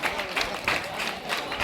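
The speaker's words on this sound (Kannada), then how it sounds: "ವಿದ್ಯಾರ್ಥಿಗಳು ಜೋರಾದ ಚಪ್ಪಾಳೆ ಮೂಲಕ ಅವರನ್ನು ಅಭಿನಂದಿಸಬೇಕಂತ ಕೇಳ್ಕೊಳ್ತಾ ಇದ್ದಾರೆ." Students applauding loudly at a school ceremony honouring freedom fighters, a dense patter of clapping that swells and dips in waves over a short stretch, with no clear voices.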